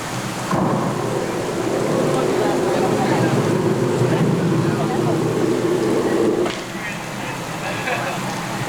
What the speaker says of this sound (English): we put sprinklers in the facades and trees, shoot the water straight in the air. That way it comes back down in a natural rainfall effect